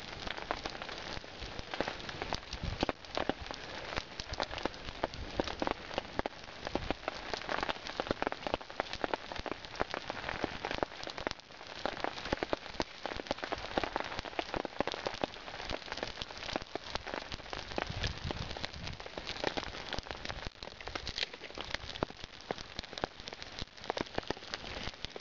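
Rain patters steadily onto a surface nearby, dense drops tapping without pause for the whole stretch, fairly soft and uninterrupted.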